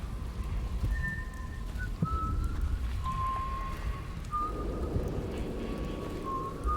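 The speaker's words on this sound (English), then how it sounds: "Quiet, off-key whistling in the dark, coming from some unseen lips." A patrolling guard in the stealth game Dishonored whistles a quiet, off-key tune somewhere unseen, thin wavering notes drifting over a low rumbling backdrop of rain-like ambience, no talking.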